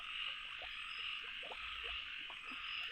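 Frogs croak in a dense chorus of short, repeated calls at varying distances, set against a constant high buzzing drone from the night surroundings.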